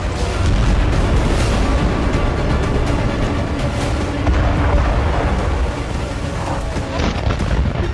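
Fire and blasts at the Volna oil depot in Taman after a Ukrainian drone strike: a dense, loud, rumbling roar of explosions that stays heavy and churning with no break, heard from a distance.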